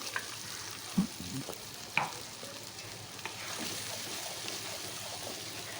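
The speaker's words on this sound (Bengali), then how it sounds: "বেশ নাড়াচাড়া করে একটু আমি এখন এটাকে ভেজে নেব" Bean paste stirred and fried in a pan gives a faint, steady sizzle with a few soft scraping knocks from the spoon near the start.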